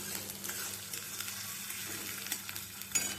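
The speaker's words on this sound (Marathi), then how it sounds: "हिरवी मिरची कांदा परतून घेऊयात मस्तपैकी जिरं मोरीची फोडणी दिली आहे" Green chillies and onion frying in oil in a hot kadai with a cumin and mustard seed tempering, a soft continuous sizzle with scattered crackles and stirring scrapes, fairly quiet and without talk.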